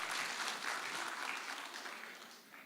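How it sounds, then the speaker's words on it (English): An audience at a communicators conference applauds steadily with dense clapping, fairly quiet and even, tapering slightly toward the end. "I believe Mr. Simata, as well as Larry, deserve a wonderful round of applause"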